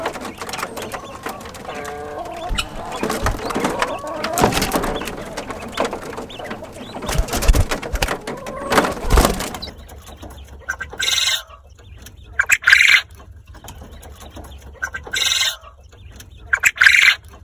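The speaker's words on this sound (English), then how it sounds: "You're definitely gonna hear some of the crows of the males" Quails call and crow in noisy bursts, then short sharp repeated calls from the males ring out between quiet gaps, close and loud.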